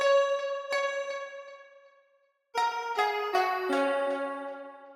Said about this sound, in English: And then we have this augmented yangtze. It's cool. It sounds like this.